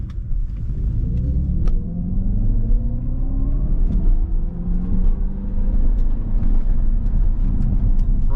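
A 2024 Dodge Charger Daytona R/T electric car accelerates hard from a launch, giving a loud, close rumble with rising tones that climb steadily over several seconds.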